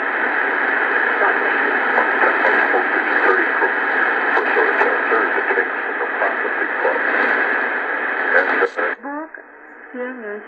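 Shortwave band reception on a G Keni AM/FM solar radio at night, a dense hiss of static and faint broadcast audio with fluttering interference, steady and fairly loud, shifting as the dial is tuned near the end.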